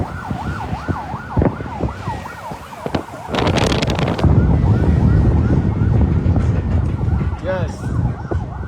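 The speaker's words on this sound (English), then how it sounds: "You can hear the sound of the siren with the Liberian National Police." A Liberian National Police siren wails, rising and falling close by, then is partly buried under loud traffic rumble and a noisy burst, with voices underneath.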